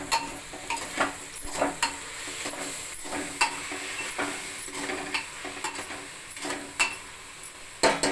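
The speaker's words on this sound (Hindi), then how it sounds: "मैगी मसाला पूरा डाल देता हूँ। और डाल के पूरा अच्छा से चला लेता हूँ" Maggi masala being stirred through pulao in a frying pan, with repeated scraping strokes of a spoon against the pan over a soft, steady sizzle, close and moderately loud.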